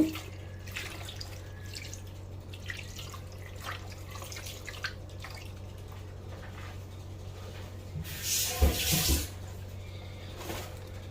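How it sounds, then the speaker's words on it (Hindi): Roughly one litre of water poured into a cooking pot for a Shinwari dum pukht, heard as a short close splash and trickle about two-thirds of the way through, over steady low kitchen hum with faint drips. "और आखिर में मैं इसमें शामिल कर दूंगा तकरीबन 1 लीटर तक पानी।"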